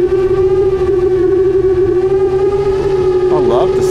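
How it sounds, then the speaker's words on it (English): AOS UL7 long-range quadcopter motors whine steadily in flight, a loud sustained tonal drone with harmonics that wavers and rises briefly near the end. "I love the sound of the motors."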